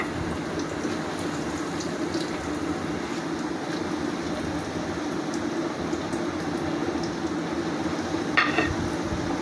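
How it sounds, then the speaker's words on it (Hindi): Chicken nuggets frying in hot oil over a medium flame, giving a steady, fairly quiet bubbling sizzle that runs throughout, with one faint clink near the end. "अब हम इसको फ्राई करेंगे।"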